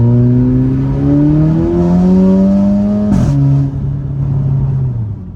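A Stage 3 VW Polo GTI engine with a Golf turbo, about 350 hp, drones loudly nearby, its pitch rising and falling as it revs, with a brief sharp hiss midway.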